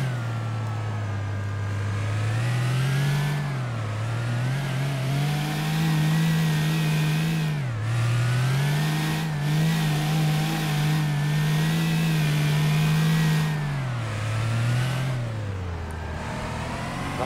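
Game engine of a Nissan Silvia S14 in City Car Driving, revving hard and steadily during a drift attempt, its pitch rising and dipping repeatedly across several throttle blips, loud and continuous with no talk over it.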